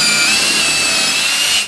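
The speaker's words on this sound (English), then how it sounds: "Drill a hole in the center of the 6-inch side." A loud, high-pitched power drill whines steadily for under two seconds while drilling a hole in a wooden shelf support, then stops abruptly.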